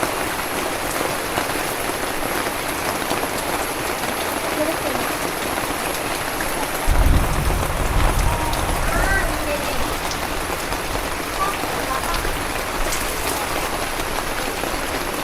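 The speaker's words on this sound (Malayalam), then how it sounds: "ഇന്ന് മഴയ്ക്ക് ശക്തി കുറച്ച് കുറവുണ്ടല്ലമ്മ" Steady rain falls outdoors as a continuous broadband hiss, with a brief low thump near the middle and no clear voices.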